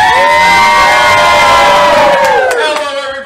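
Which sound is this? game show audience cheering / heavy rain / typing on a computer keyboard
game show audience cheering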